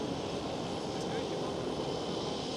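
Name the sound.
KLM Boeing 787 passing at Schiphol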